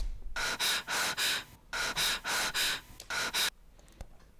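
A rhythmic breathing effect on an Ableton bass preset run through a saturator gives a series of about ten loud, gasping breath-like pulses in even groups, then a near-silent tail.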